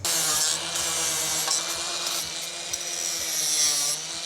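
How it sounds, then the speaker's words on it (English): An angle grinder cleans up the thin edges of a cut notch in metal on a GQ Patrol, giving a loud, continuous high-pitched grinding whine with slight surges as it works the edge, close and without talk. "I'm just going to clean this up, get rid of the really thin bits with the grinder"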